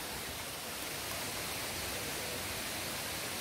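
Twin waterfalls at Maaslum in Ayungon, Negros Oriental, Philippines, pour down from a mountain, making a dense, even roar of rushing water that holds steady throughout with no voices.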